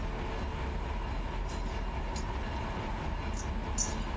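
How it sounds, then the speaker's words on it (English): An intermodal freight train rolls into a rail yard in the Run8 train simulator game, giving a steady low rumble throughout with a few faint high squeals near the end and no talking. "This is the first intermodal train coming into the LATC yard."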